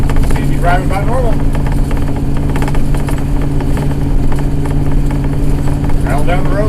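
A motorhome rolls down the road with a steady, loud engine drone and road rumble, while a person talks briefly at the start and again near the end.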